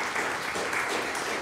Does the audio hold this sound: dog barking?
no